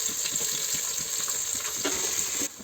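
Onion frying with whole spices in hot oil for egg biryani, a close, steady crackling sizzle with light stirring that cuts off abruptly near the end.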